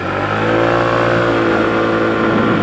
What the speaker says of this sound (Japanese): このノーマルマフラーね、すごい静かで、すごいなんていうの、細いトルクやけど進んでくれる。